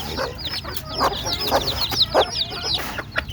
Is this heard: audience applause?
no